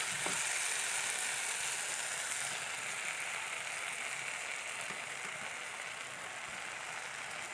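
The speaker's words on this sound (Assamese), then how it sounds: "এয়া মই লাহে লাহে লৰাই দিছোঁ, বিলাহীখিনি যাতে গোটেই ব্ৰেডত লাগি যায়।" Bread and tomatoes fry in a pan over a medium flame as they are stirred, giving a steady, close sizzle that holds evenly throughout with faint scraping underneath and no talking.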